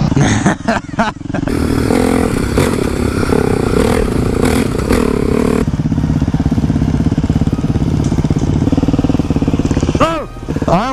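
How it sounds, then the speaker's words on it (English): Motorcycle engine in a video game about motorcycle jousting, a steady loud droning hum with scraping and clatter, ending in a rising whine. "Motorcycle jousting."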